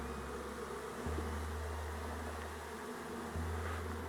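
Honeybees buzz steadily around an open hive as older worker bees are shaken out during a colony combine, a dense close hum that continues throughout.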